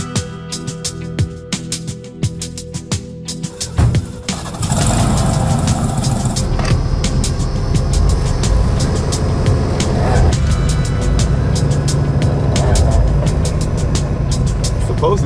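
A wrecker tow truck's engine starts and settles into a steady idle and drive around the block, a loud, continuous rumble with clicks and clatter before it fires up.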